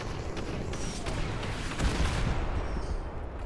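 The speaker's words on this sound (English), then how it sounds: "Who are you shooting at?" Dense gunfire and explosions from a Fortnite battle rumble continuously, loud shots and booms layered over one another in a sustained, chaotic barrage with no clear pauses.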